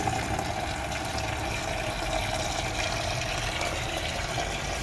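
Water running into a bucket from a tap or hose during household cleaning, a steady continuous gushing hiss with a constant tone and no talk.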